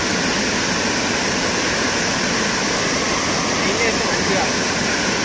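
Antharaganga waterfall near Hyderabad roars as a dense, unbroken rush of falling water, loud and close throughout.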